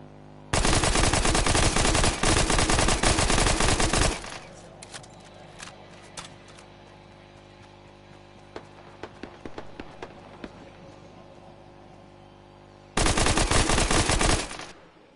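Fortnite gunfire: two dense bursts of rapid automatic fire, one lasting several seconds at the start and another near the end, with quieter scattered shots and clatter between them.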